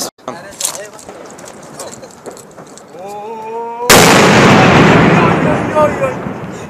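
A sharp, loud New Year's firework bang in Rotterdam Noord, 2014/2015, cracks and rumbles after scattered pops and crackles, with people talking throughout.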